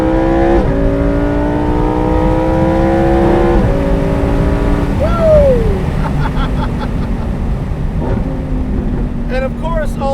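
Lamborghini Performante Spyder engine, loud and close, climbing through the revs in repeated pulls with gear-shift breaks and a brief dip, while a voice talks over it.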